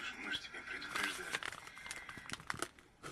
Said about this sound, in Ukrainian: Давайте нарешті будем распаковывать.